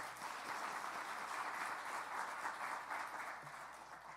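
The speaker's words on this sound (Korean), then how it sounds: "박수 한번 보냅시다." A church congregation applauds together, a steady, fairly faint patter of many hands clapping heard from a distance inside the sanctuary.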